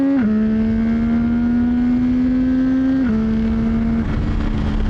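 A 2025 CFMOTO motorcycle engine drones loud and close at a steady high pitch. It dips briefly twice as it shifts and holds strong under acceleration while the front wheel lifts.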